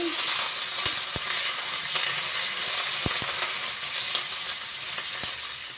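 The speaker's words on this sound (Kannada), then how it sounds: "ಸೌಂಡ್ ಕೇಳಿಸ್ತಾ ಇದೆಯಾ ಒಗ್ಗರಣೆದು" Garlic and mustard seed tempering sizzles steadily in hot oil for a bitter gourd gojju, a continuous close frying hiss broken by a few sharp pops and crackles, with no voices.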